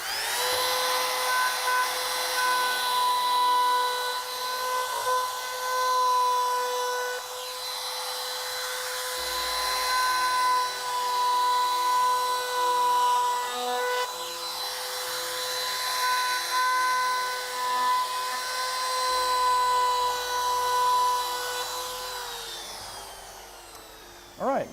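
A router rounds over the edges of wooden table legs with a 1/8 inch round-over bit, a loud, continuous high-pitched whine close by with steady tonal hum and slight pitch shifts as the cut progresses.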